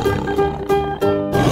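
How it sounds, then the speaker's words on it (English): A tiger in a 3D animal video game lets out several short, rough roars in a row, each a growling burst with brief gaps between, loud and close. "tiger"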